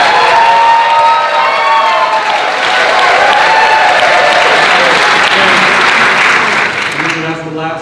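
Loud, dense applause with cheering from a crowd at a 2018 Texas gubernatorial debate between Lupe Valdez and Andrew White, sustained throughout and fading near the end.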